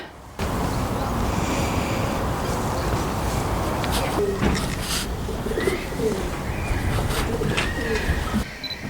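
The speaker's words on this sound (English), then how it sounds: "I hear pigeons." Pigeons cooing at Porchester Castle gatehouse, soft repeated coos over a steady outdoor wash of wind and ambient noise, with faint voices in the background.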